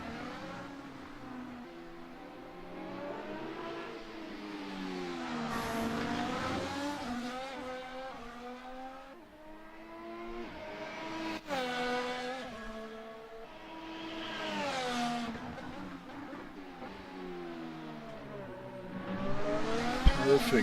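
A race car in a sim racing video game keeps its engine near, with revs climbing and dropping repeatedly through the gears. Brief tire squeal and a sharp knock come near the end.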